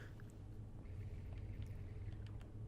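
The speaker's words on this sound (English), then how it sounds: "That's a proper V8 there" V8 car engine idling low and steady in the BeamNG driving simulator, a continuous deep rumble throughout with faint higher clicks on top.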